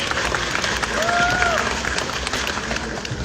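Audience applause at an inCruises company summit, a steady wash of clapping from a crowd that holds at an even level throughout, with a faint voice or tone briefly rising above it.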